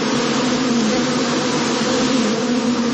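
Drones flying as a swarm, giving off a dense, steady insect-like buzz that holds loud and unbroken, with no talk over it.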